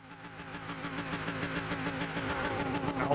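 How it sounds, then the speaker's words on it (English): An Alfa Romeo engine in the racing game Gran Turismo 6 drones steadily with a rising, revving tone, loud and continuous with no voices over it. "Let's hear this engine roar, shall we?"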